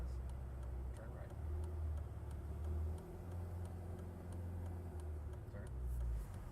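A Ferrari pulls away from a dealership under light throttle, its low engine drone rising and falling steadily with faint ticking, close by, while a voice talks over it.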